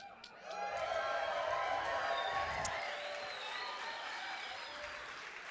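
An audience at an Ignite San Francisco talk event applauds, a broad, sustained roar of many hands with cheering mixed in, heard from a distance at a modest level.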